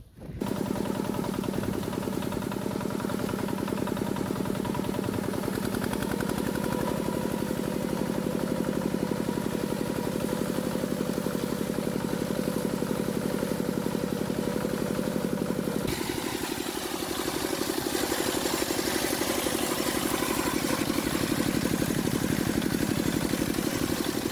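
A mini tractor engine running close by with a steady, rapid, chugging rhythm, fitted with a mower attachment after mowing, holding a loud continuous drone that shifts pitch slightly partway through.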